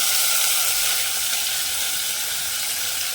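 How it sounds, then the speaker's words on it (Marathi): Rice roasting in hot ghee for hotel-style jeera rice, giving a dense, even, close sizzle that holds steady throughout with no voices. "तांदूळ तुपावर चांगला परतून घ्यायचा"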